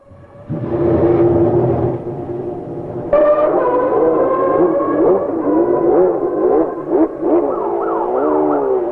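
Ayrton Senna's 1990 Formula One car screams through a fast qualifying lap, its high-revving engine rising and falling through gear changes, loud and close, with pitch sweeps as it passes.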